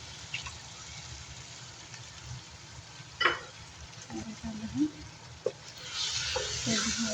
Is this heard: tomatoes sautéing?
yes